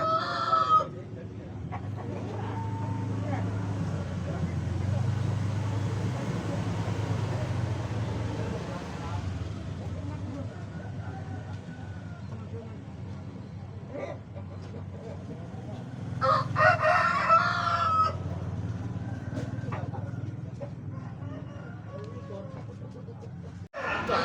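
A rooster crows loudly and close, then crows again later, with crowd babble and chatter around it at a busy outdoor chicken gathering.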